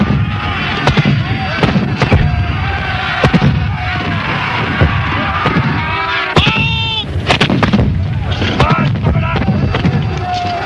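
Cannon fire from English gunners at the Battle of Culloden, a series of sharp, loud booming blasts at irregular intervals throughout, mixed over a busy backdrop of battle noise and narration-like voices.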